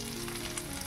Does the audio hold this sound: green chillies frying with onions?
yes